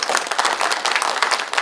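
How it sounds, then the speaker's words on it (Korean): Brief burst of dense applause from a crowd at an inauguration ceremony at Nonsan Cultural Center, many hands clapping together at a steady level. "김원선 의장님의 식사 고맙다는 큰 박수 한번 부탁드립니다"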